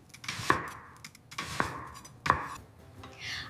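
An onion is chopped with a knife on a board, three distinct sharp chops spaced about a second apart, close and clear with no talking.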